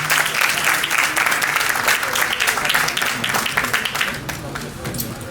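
Audience applause with some cheering at a birthday celebration honoring Wilgo David, steady broadband clapping that stays loud throughout, with a faint voice or music murmur underneath.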